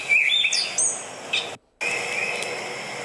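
Gray catbirds calling outdoors along a Rochester trail in June: several short, squeaky high chirps and mewing notes near the start and middle, over a steady hiss, with a brief gap of silence partway through.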